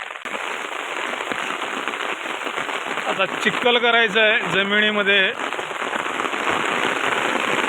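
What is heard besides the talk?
rain falling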